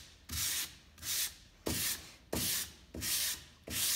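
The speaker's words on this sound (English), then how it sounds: "And now we're just gonna hit it really quickly with some light sandpaper." Light sandpaper rubbed over a primed yellow foam model: six or so rhythmic back-and-forth scratchy strokes, each about half a second, close and fairly quiet, no talking.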